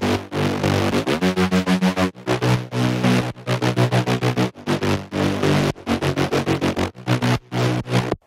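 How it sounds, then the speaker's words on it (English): A synthesized mid bass from an electronic remix, built in Serum with overdrive and OTT, plays loud, rhythmic, gritty stabs broken by short gaps. "And then we have the mid bass, which sounds like this."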